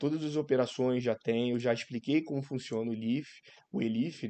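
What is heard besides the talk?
No distinct noise like a dog, phone or traffic.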